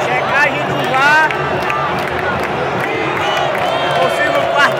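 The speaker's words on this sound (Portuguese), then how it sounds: "Torcida no quarto gol do Ceará." A large crowd of football fans roars and chants in the stadium stands after Ceará's fourth goal against Ituano, a dense, sustained wall of voices with scattered whistles and shouts.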